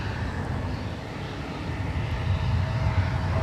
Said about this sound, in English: E175LR on the move, crossing 12 right.